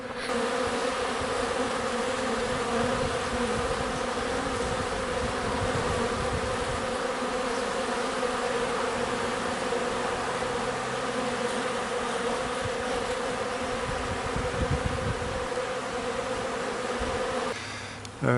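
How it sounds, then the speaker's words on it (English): A dense swarm of honey bees hums continuously and close by, with a rich, steady buzz that varies gently as individual insects pass. "I'm gonna walk right through this cloud of bees"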